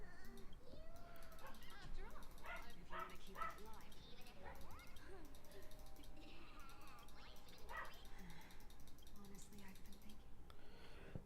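A dog barks, yips and whimpers faintly in the background, partly buried under ongoing talk.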